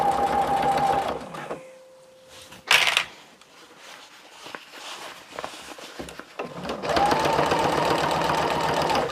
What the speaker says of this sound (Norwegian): Setter syfoten ned, og så syr vi rundt.